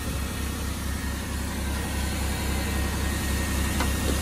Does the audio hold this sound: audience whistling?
no